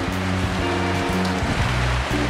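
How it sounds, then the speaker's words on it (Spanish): Hail and rain pour down steadily on an outdoor patio, a dense, loud hiss of pattering with a low mechanical hum droning underneath throughout. "Está granizando de la verga."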